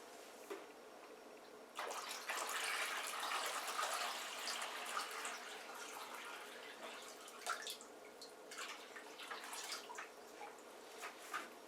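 Water pours and splashes steadily into the shallow water tray of a Ridgid 7-inch wet tile saw, close by, then trickles and drips unevenly toward the end.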